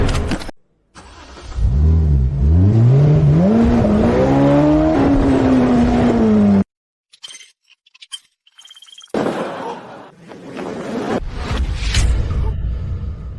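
A Rolls-Royce Phantom engine revs up with rising, swooping engine tones for several seconds, loud and close. A silent gap follows, then muffled rustling and clinks.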